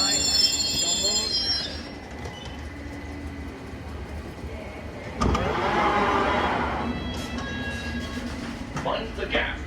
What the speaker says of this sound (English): Let's get on this train.